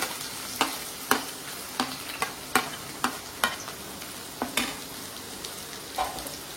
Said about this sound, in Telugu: సన్నగా తరిగి పెట్టుకున్న ఆనియన్ వేసి కొంచెం ఫ్రై అవనివ్వాలి.